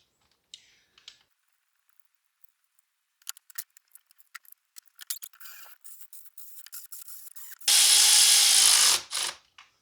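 A power tool runs a long burst while driving intake bolts down on a 2006 Subaru B9 Tribeca engine during installation, preceded by scattered clicks and ratcheting taps, with no talking.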